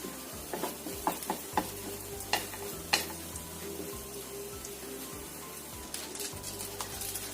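An egg and spinach mixture fries in oil in a pan over low heat, giving a steady sizzle with soft scraping and stirring taps on top, with no talking.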